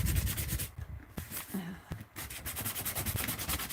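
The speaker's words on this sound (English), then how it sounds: "Just kind of scrape some of that away." Paint is scraped away from a pet portrait in quick, repeated rubbing strokes, close and rhythmic, with a short pause in the middle.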